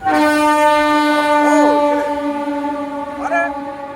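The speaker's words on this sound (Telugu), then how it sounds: "ట్రైన్ వచ్చేస్తుందండి." A loud train horn blares with a steady multi-tone chord, rising and wavering, while rail rumble fills the background.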